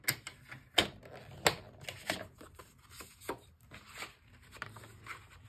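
Paper being scored for a mini flapped pocket book, a series of sharp, close taps and scraping strokes, quiet and irregular with pauses between them.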